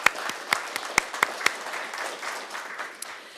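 Audience applause at a city council meeting during service recognitions, with several distinct sharp claps at first, then a softer, thinner patter that fades over a few seconds, moderately distant in a hall.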